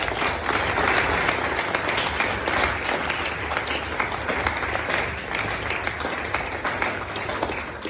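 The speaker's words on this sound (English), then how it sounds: "Can we give a round of applause for Father" An audience at a Tuesday-night talk on fasting applauds Father Gerasimos, a sustained, dense clatter of many hands clapping evenly for several seconds with no letup.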